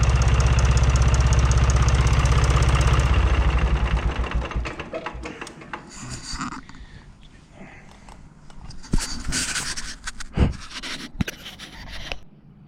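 Small engine fitted with a fuel pump running loudly and steadily for about four seconds, then cutting out, leaving faint sputters and clanks.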